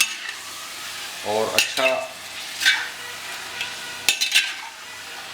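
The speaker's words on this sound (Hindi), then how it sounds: "और लगभग 20-25 मिनट तक बढ़िया से भून लेंगे। इसे अब हमें बिल्कुल ब्राउन करना है" Chicken masala frying in ghee with a spoon stirring and scraping the pan, a continuous sizzle broken by several sharp metallic knocks, and a brief spoken word or two partway through.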